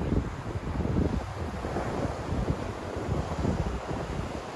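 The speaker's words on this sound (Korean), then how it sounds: "오늘 되게 파도 센데?" Strong waves roll onto a beach on Jeju Island, heard as a steady, loud washing roar mixed with wind buffeting the microphone, with no voices.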